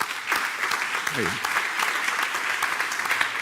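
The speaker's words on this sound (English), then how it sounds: "That applause goes back to you." Audience applause at a talk on cultural and creative industries in cities, steady dense clapping filling the whole stretch, with a brief spoken interjection near the start.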